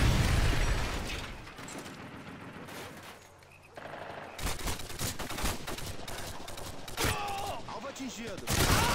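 Missile strike in Call of Duty Modern Warfare 2, heavy blasts and bursts of automatic gunfire mixed with a roaring rumble, with a quieter lull midway before loud impacts resume.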